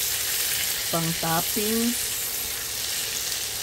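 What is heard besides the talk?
shrimp sautéing in a pan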